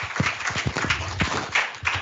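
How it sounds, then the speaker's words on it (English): A graduation ceremony audience applauds together, a steady close wash of many hands clapping with no talking, about two seconds long. "Give a great round of applause for you,"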